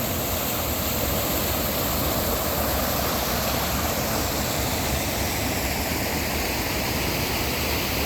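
Steady rushing water of a river fed from the mountains above, a broad continuous roar filling the whole clip without pause, close and loud with no voices over it.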